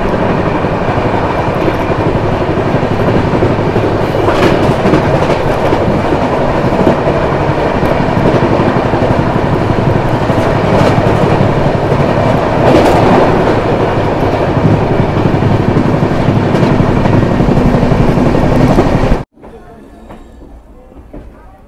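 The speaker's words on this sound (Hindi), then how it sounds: "बगल में देखिए समता एक्सप्रेस ट्रेन लगी हुई है" Samta Express train, running between Visakhapatnam and Hazrat Nizamuddin, at Mathura station: a loud, steady rumble with clattering wheel noise that continues for most of the clip, then drops abruptly to a quieter background near the end.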